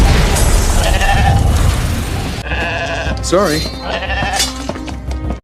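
A sheep bleats in the fantasy film Warcraft, a wavering, quavering cry heard close after a loud rumbling effect, with someone speaking over the scene.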